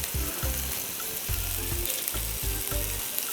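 Close, continuous sizzling of chicken frying in a pan without oil, crackling steadily with low bursts of stirring or moving pieces.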